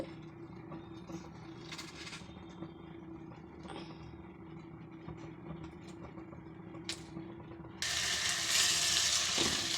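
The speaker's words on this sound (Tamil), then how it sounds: "நல்லா கிண்டி விடணும் தக்காளி நல்லா மசிஞ்சு வர்ற வரைக்கும் நல்லாவே கிண்டி விடணும்" Tomatoes for tomato thokku stirred and cooking in a pan, a steady low sizzle with faint scraping, then a louder hiss near the end, with no talking.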